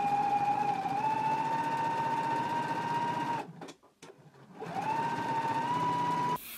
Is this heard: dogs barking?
no